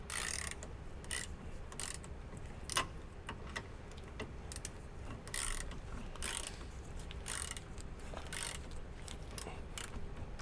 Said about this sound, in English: we'll use a 3/8 drive ratchet on the tool